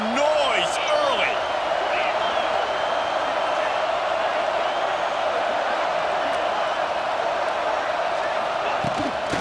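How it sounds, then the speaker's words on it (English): Steady roar of a stadium crowd in EA Sports College Football 26, a broad continuous wall of fan noise with faint whistles and bumps, holding at an even loud level throughout. "This crowd bringing the energy and noise early."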